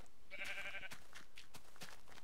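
Sheep in Minecraft bleat once in a clear, close call, followed by scattered soft clicks and taps in the game.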